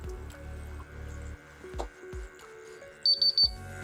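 A Watchgas Neo PID gas detector sounds its alarm as a quick series of three or four sharp high beeps near the end, following softer handling clicks and low background hum.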